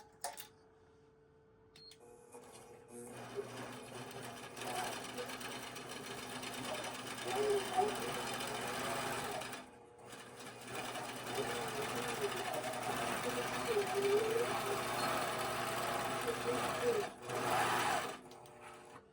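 A sewing machine bastes a quilt along a quilting path. It runs in long steady stretches of fast, even stitching with a short pause midway, then stops near the end. A person talks now and then under the machine noise.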